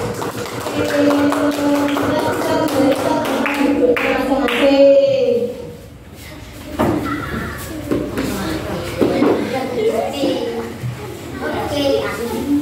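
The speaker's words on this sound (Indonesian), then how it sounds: "Oke, tepuk tangan untuk keempat kelompok." A classroom of children clapping together with busy chatter during an Islamic religious education lesson, the applause fading briefly midway before voices and scattered claps resume.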